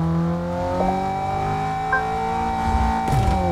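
A race car engine in Forza Motorsport drones steadily at high revs, loud and close, with a brief shift in pitch near the end.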